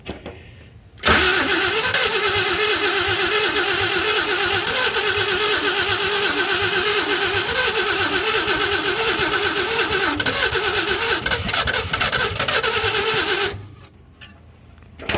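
A 1952 Chevy engine cranks and fires up for its first start after sitting, settling into a loud, steady, uneven idle up close for about twelve seconds before cutting off.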